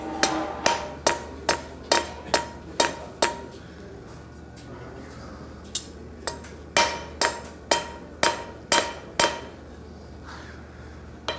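A hammer rings on a steel scarf laid on an anvil, thinning the end for a forge weld: two bursts of sharp, evenly spaced metallic blows, about a dozen strikes in all, close and clear with a short pause between the runs.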